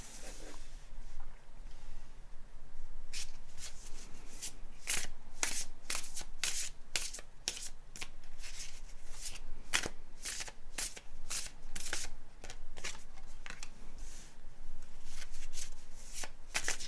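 Tarot cards from a Rider-Waite style deck being shuffled by hand, a steady run of close, crisp riffling slaps and rustles that continues for a long stretch with no talking.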